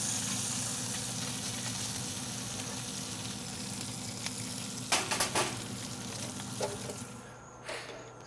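Double smoked bacon sizzles steadily on a Yoder cast iron griddle, a constant close frying hiss with a few sharp spatula scrapes and clanks near the end.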